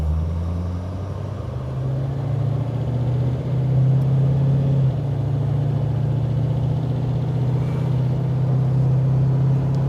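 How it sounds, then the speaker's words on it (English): A 1934 Plymouth engine rumbles steadily up close, a low droning note that swells slightly as the car pulls forward. "I'm gonna put my foot on the gas pedal and off we go."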